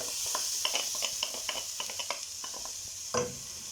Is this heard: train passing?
no